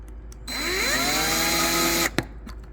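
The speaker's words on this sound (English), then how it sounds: "resume drilling pilot hole." A power drill bores a 5/32 pilot hole for a cabinet handle bolt, its motor whining steadily up to speed for about a second and a half close by, then stopping with a brief clunk.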